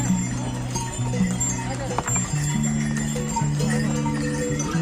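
Horse hooves clip-clop steadily along a mountain trek path on the route from Sonprayag to Kedarnath, mixed with a constant low drone and background chatter.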